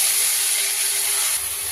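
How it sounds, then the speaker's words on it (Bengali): Flat beans stirred in a hot pan after dried chilli and five-spice seeds, a continuous sizzling hiss with faint scraping, close and steady, no speech. "শিম দেওয়ার পর নাড়াচাড়া করছি।"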